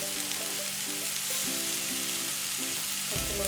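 Onions and carrots for egg fried rice sautéing in a pan, a continuous close sizzle with faint stirring, while a tonal hum of music runs underneath.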